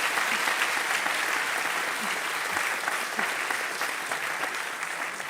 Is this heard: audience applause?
yes